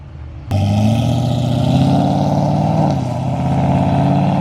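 A Corvette hot rod engine fires up and revs loudly, a deep throaty rumble that holds and wavers, close by, with no voices.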